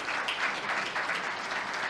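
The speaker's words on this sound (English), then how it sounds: "Let's give her a big round of applause" Sustained applause from a large audience at a transport forum plenary, a dense, steady wash of clapping with no speech over it.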